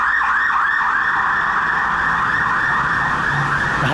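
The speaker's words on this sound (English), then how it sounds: "Another ambulance." An ambulance siren wails loud and close on a Bangkok street, its warbling tone repeating steadily over traffic rumble.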